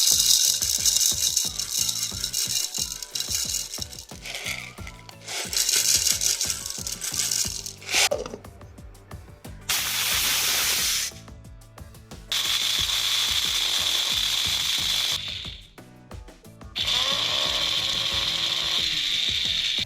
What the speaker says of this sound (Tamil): மிளகு சொர சொரன்னு அரைக்க ட்ரை பண்ணோம், கரெக்டாக வந்திருக்கு.